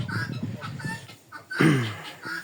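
Chickens cluck in short, close bursts, with a louder squawking call partway through.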